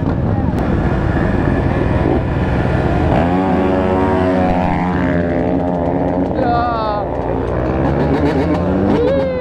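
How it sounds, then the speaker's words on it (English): Two-stroke 450 dirt bikes race by, engines revving and whining with rising and falling pitch, loud and continuous, while people talk over the noise. "They in flip-flops, bro, racing big 450s."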